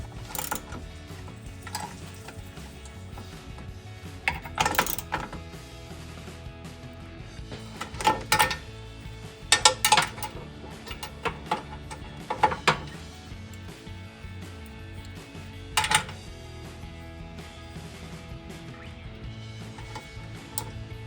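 A 13 mm wrench and a socket on a long extension tighten bracket bolts while a BedStep is installed on a 2021-2023 Ford F-150, giving quiet, intermittent bursts of ratchet clicking with pauses between them.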